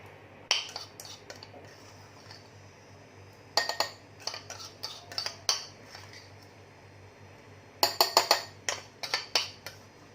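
Spoonfuls of pickle spice masala dropped into a glass jar of raw baby mangoes, giving bursts of clinking and scraping against glass, in sparse clusters with quiet pauses between.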